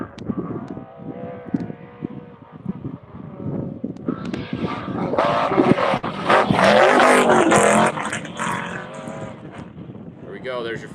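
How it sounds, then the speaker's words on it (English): An off-road race truck at the Silver State 300 desert race roars past nearby, its engine building to a loud, revving peak before fading, with a commentator talking over it. "Here comes your first truck."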